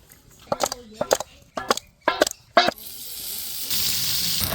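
Fish frying in oil with turmeric powder and salt, a soft, steady sizzle rising after a few short bursts of talk.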